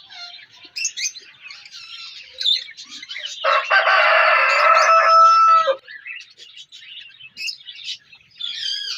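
A rooster in a backyard pet bird cage crows loudly and close at hand in one long call, with hens and other birds clucking and chirping around it before and after.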